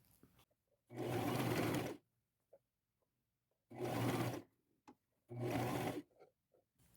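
A sewing machine stitches a seam about a quarter inch from the top edge of a thrifted garment, sounding in three short close bursts with quiet gaps and faint handling noises between.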